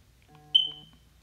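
A single short electronic alarm beep, a thin high chirp that rings briefly and fades, heard alone in a quiet room.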